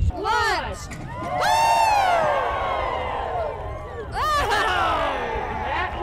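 A crowd whoops and cheers at an outdoor pumpkin chucking event, loud rising shouts in two bursts with scattered voices in between.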